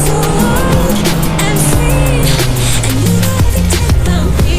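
Motorcycle ridden hard along the Passo del Cansiglio mountain pass road, engine note rising and falling through gear changes, loud and close with continuous wind rush over it.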